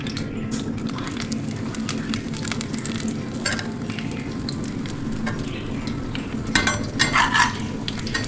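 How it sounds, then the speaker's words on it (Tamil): Bread slices frying in a little oil in a pan, a continuous close sizzle with occasional crackles and light clinks of a utensil against the pan. "ஆயில் கொஞ்சமாக ஊற்றிக்கலாம் அடுத்து பிரெட்டெல்லாம் அங்கே எடுத்து போட்டுக்கலாம்"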